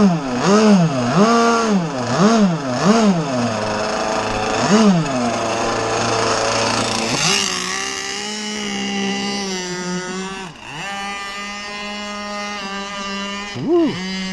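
A rebuilt Zenoah marine engine runs at high idle, loud and close, its steady buzzing drone rising and falling in repeated revs before settling into a smoother sustained tone.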